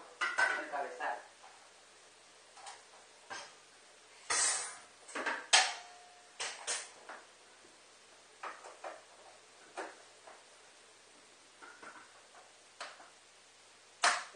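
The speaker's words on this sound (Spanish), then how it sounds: "Vamos a quitar la tapa y le vamos a poner ya el cabezal." A metal lid is lifted off a GM electric cooking pot while making a torrija sponge cake, giving a few close clanks and clicks of metal and plastic spread out amid quieter kitchen handling.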